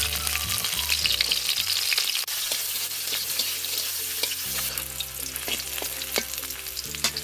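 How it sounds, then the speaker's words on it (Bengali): Chilli, onion and garlic fry in oil in a wok, giving a steady loud sizzle with stirring clatter throughout and no talk. "এখন আমরা কড়াইতে ঝাল পেঁয়াজ রসুনগুলো দিয়ে দেবো"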